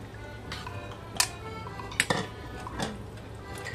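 Chayote goes into a pot of chicken tinola with a few light clinks and knocks of metal and utensils, brief close taps against the pot over a quiet background.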